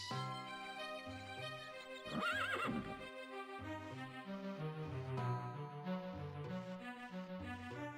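A horse whinnies loudly over Elder Scrolls 2: Daggerfall's steady background music, with hooves clip-clopping faintly nearby.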